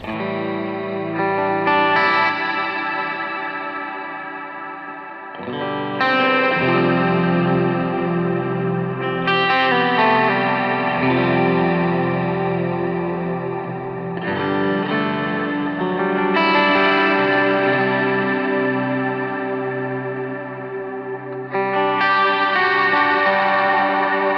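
An electric guitar rings out through a worship pedalboard, strummed chords swelling every few seconds into lush, chorused, slightly distorted washes with long echoing reverb tails, loud and alone.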